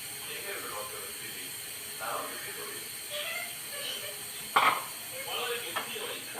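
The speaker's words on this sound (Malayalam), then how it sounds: "കുറച്ച് വെള്ളം ഒഴിക്കാവേ." Water poured into a pan of simmering green pea curry with a ground paste of coriander leaves, coconut and fennel: a steady sizzling hiss with faint clinks, heard under a voice talking nearby.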